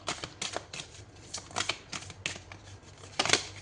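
Tarot cards being shuffled by hand, a quick series of crisp riffling and flicking bursts close by, repeating irregularly with short pauses between them.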